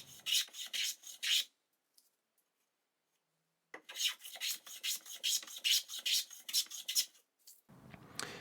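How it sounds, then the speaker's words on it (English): Hand plane shaving the edge of a wooden stepladder back plate in two bursts of rhythmic rasping strokes, first a short run, then a longer one after a pause, close and clear with no talking. "the back plate will also need to have an edge planed to match the angle of the ladder"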